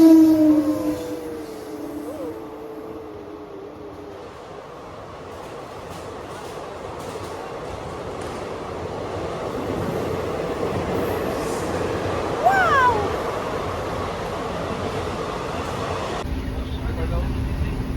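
A train rumbles at a railway station platform, with a continuous heavy rolling drone, a brief wheel squeal partway through and people talking faintly in the background.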